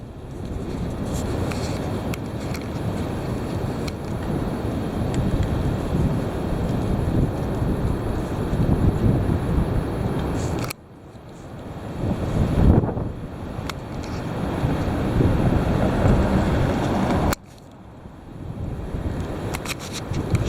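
Heavy wind roars continuously into the microphone, loud and buffeting, with two sudden drops where the gusts briefly cut out before surging back.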